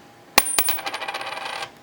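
A non-silver quarter dropped onto a hard surface: two sharp clinks, then a dense, ringing rattle of bounces that fades over about a second, heard alone and up close.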